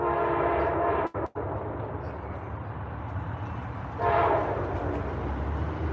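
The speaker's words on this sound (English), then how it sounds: "We're gonna wait till the train goes by." A train rolls past with a sustained, heavy rumble and loud, tonal horn-like blasts. A couple of sharp clicks cut in early, and the sound swells again near the end as the cars keep going by.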